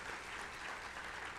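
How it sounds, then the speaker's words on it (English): Audience at a police and citizens awards banquet breaks into a big round of applause, dense steady clapping filling the room with no voices above it. "that's a big round of applause"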